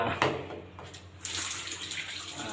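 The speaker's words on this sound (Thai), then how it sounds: "ฝักบัวนะครับ ฝักบัว" Water from a shower head in a dormitory bathroom pours steadily as a broad, moderately loud hiss, with a brief splash early on and a brighter surge of spray partway through.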